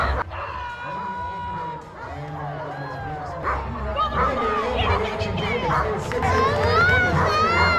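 A puppy at an outdoor mountain-games dog event barks and yips in short bursts amid a lively crowd, with people talking and cheering throughout.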